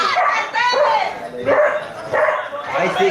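A dog barking and yelping in repeated bursts at close range, loud and agitated, with a voice mixed in.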